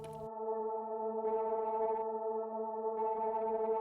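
A sustained synth tone built in Logic Pro X holds steady with clip distortion adding grit, its buzzy harmonics swelling twice in brightness over the held note, moderately quiet and with no voice.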